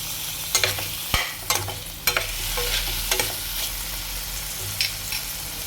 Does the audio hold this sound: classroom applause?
no